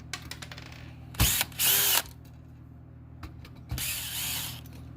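Power drill with a 5/16 bit backing a screw out of a car dashboard: two short bursts of whirring spin near the start and a longer run later, close and fairly loud in a quiet interior.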